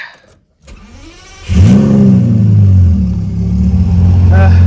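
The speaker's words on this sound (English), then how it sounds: "All right, semi cold start." A twin-turbo Lamborghini engine cranks on a semi-cold start and catches, surging into a loud rev before settling into a deep, steady, rumbling idle close by.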